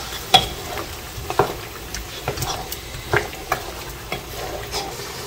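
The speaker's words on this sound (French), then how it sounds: "Je vais mélanger pas de tomate là avec viande." Meat being stirred with tomato paste in a pot, a spoon scraping and knocking in irregular strokes over a soft frying sizzle, close and moderately loud, no talking.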